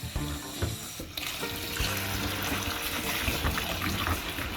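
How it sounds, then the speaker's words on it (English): Cold tap water runs steadily into a sink, splashing and trickling as saltfish is rinsed under the stream, with no talking. "Then we can just rinse it off with some cold water."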